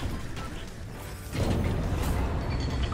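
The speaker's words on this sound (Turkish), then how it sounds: "Ve kapı açıldı." A stone door grinds open in a puzzle ruin in Fortnite, a low rumbling mechanical scrape that swells midway and keeps churning steadily to the end.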